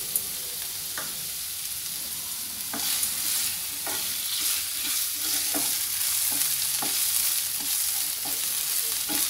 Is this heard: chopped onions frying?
yes